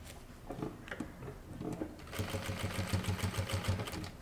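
A sewing machine runs steadily while top-stitching a kurta, a fast even mechanical chatter that starts after a few scattered clicks and handling noises and keeps a regular rapid rhythm close by.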